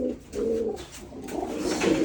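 Pigeons coo in soft, repeated low bursts at a pigeon fair in Bogura, close and fairly loud, with crowd bustle underneath and no talk.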